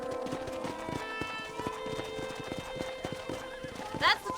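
Steady hoofbeats clatter at a gallop in the video game Red Dead Redemption, rhythmic and close, with a horse whinnying near the end over a low background hum.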